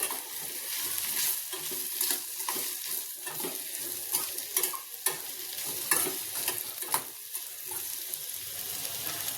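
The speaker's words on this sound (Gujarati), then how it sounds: "હલાવી લઈશું બરાબર બરાબર મિક્સ કરી લેવાનું છે" Spoon stirring raw mango salad with cumin powder, turmeric and salt, giving a steady run of close, light scraping and wet mixing sounds with no talk.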